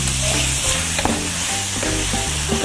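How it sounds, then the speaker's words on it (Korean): Spicy pork and squid stir-fry with seasoning sauce in a hot pan, giving a loud, continuous close-up sizzle with stirring scrapes and clatter throughout. No one speaks. "골고루 잘 어우러질 수 있도록 볶아주세요."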